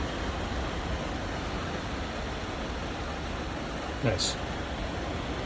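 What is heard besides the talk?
heater blower fan in 1964 International Harvester Travelall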